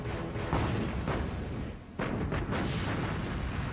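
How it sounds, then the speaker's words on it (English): Rapid naval gunfire from the German battleship Bismarck and the cruiser Prinz Eugen, firing main and secondary guns, forms a dense, loud, continuous rumble of overlapping booms with heavy low-end roar throughout. "Bismarck and Prince Eugen rapid fire their main and secondary armament."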